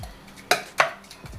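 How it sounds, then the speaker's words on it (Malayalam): A boiled banana is mashed with a glass. Two sharp knocks of glass against the pan or dish ring out close and distinct in a short, quiet moment. "ഇത് ചൂടാകുമ്പോൾ നമുക്ക് ഗ്ലാസ് കൊണ്ടൊന്ന് ഉടച്ചു കൊടുക്കാം"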